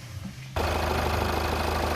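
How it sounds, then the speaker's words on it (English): A VW/Audi 2.0 TDI diesel engine, freshly repaired for an inlet manifold flap fault (P2015) with codes just cleared, cranks and fires abruptly after a quiet moment, then settles into a loud, steady, close-up diesel run. "So starting the engine straight after clearing the codes"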